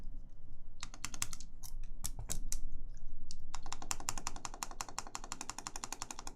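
Holy Panda switches on a mechanical keyboard clack in quick runs of close keystrokes: a sparse burst of presses, a short pause, then a steady rapid flurry, with a faint rattle from one loose keycap among them.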